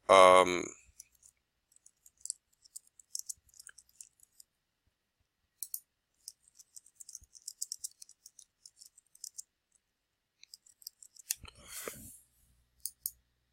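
A computer mouse clicks repeatedly while a map polygon is drawn in Google Maps. The clicks are sharp and isolated, in scattered single and double taps with near silence between them, after a brief spoken phrase at the start.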